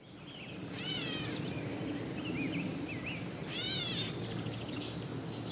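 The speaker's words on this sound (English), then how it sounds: "The catbirds are, however, named for the meow-like call they give" Two distinct mewing calls of a gray catbird a few seconds apart, with softer chirps between them over faint background noise.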